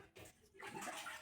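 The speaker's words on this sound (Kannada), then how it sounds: "ಫುಲ್ಲು ಬಕೆಟ್ ಮೇಲೆ ಬರೋ ತನಕ ನೀರು ಹಾಕುವ." Water is poured into a bucket in a brief, faint gush that swells into a fuller splashing stream after a short pause.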